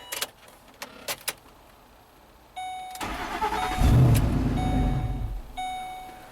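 A Ford car is heard up close: a few sharp clicks, then a whirring starter cranks briefly before the engine catches and surges into a loud, rough rev that eases back toward idle.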